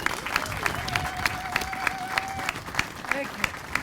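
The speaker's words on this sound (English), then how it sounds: "So let's give Lou a big round of applause." Crowd at an outdoor ribbon cutting for a heroes monument claps for a World War II veteran, scattered sharp handclaps over a murmur of voices, with a few distinct louder claps standing out.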